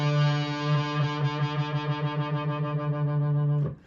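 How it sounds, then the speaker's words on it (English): Double-tracked rhythm guitar run through a Cklone Bender fuzz pedal and slightly detuned, producing a steady sustained distorted chord whose tone wobbles and flutters rhythmically before cutting off near the end. "So when I start to detune that a little bit, it pulls it apart and it flutters"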